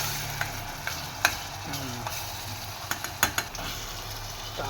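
Cluster bean curry with garlic paste cooks on a full gas flame, giving a steady close sizzle broken by a few sharp clinks of a spoon against the pot, with no talking.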